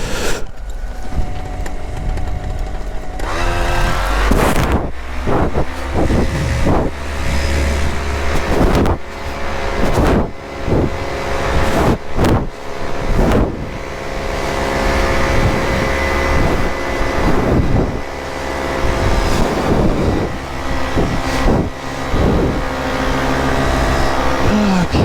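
An Atom 80 paramotor engine roars at full throttle, loud and continuous with a steady high-revving drone that surges and dips slightly over twenty-five seconds, likely amid wind noise.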